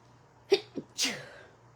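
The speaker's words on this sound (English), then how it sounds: "Oh, I'm gonna sneeze." A single close sneeze, preceded by a couple of quick sharp breaths and ending in one louder burst, heard alone in a quiet room.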